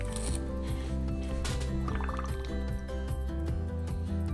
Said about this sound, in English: she blows bubbles out of her butt